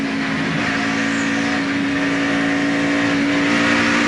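A 2001 NASCAR race car engine drones loudly and continuously, its pitch shifting slightly as the throttle is blipped.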